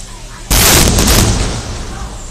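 A loud fireworks explosion bursts at a festa fireworks festival in Malta, one sudden close bang that booms and rumbles on for about two seconds.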